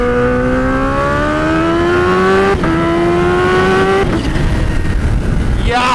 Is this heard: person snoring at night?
no